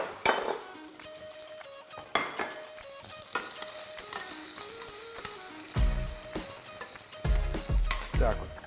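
Sausage with paprika frying in a pan, a steady sizzle with stirring and utensil clinks against the pan, louder crackling bursts near the end.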